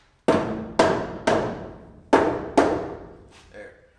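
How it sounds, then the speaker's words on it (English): Five solid thuds from a rubber mallet striking trailer floor boards ring out at an uneven pace, each sharp blow followed by a short decaying resonance. "That's what that rubber mallet's for."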